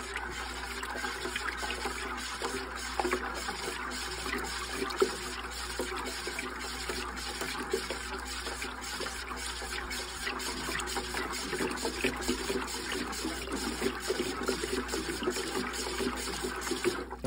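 Water in a hydroponic reservoir stirred by hand, giving a continuous close sloshing and swirling with rhythmic splashy pulses throughout, moderately loud and without speech.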